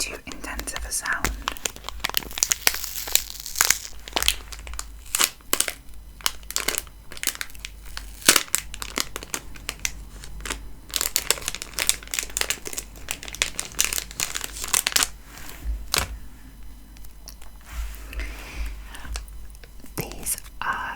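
Orange, black and beige Halloween-style stickers crinkle and crunch right against the mic in dense, irregular bursts, with soft whispering underneath throughout.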